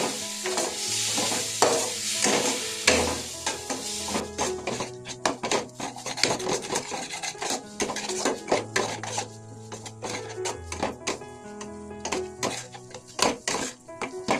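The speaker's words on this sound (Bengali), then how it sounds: "কাজু বাদামটাও আমি এই মশলার সঙ্গে ভালো করে কষিয়ে নেব।" Spices and cashew paste stir-fried in a pan for chicken dopiaza, with a steady sizzle and repeated scraping strokes of a spoon, close and loud, with faint background music and no speech.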